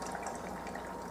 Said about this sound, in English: now I'm going to divert the tap water through the Kangen water machine